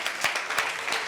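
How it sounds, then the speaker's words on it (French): Short burst of clapping from an audience at a youth broadcast event, several uneven claps close together. "On applaudit."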